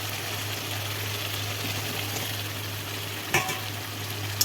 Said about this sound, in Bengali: এবার বেগুনটা দিয়ে দেবো